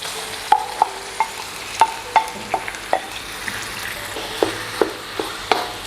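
Ground pork stir-frying in a pan, a steady low sizzle broken by repeated short scraping and clinking strokes of a spatula against the pan, close and moderately loud with no talking.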